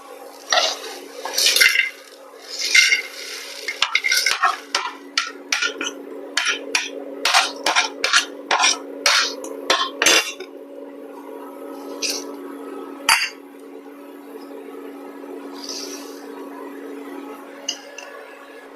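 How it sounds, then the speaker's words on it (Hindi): Whole spices, including broken nutmeg, are stirred and dry-roasted in a pan on a low induction flame, giving a run of sharp clattering scrapes and knocks in quick succession that thin out to occasional taps. "बराबर चलाते हुए नमी निकलने तक गर्म कर लेते हैं मसालों को"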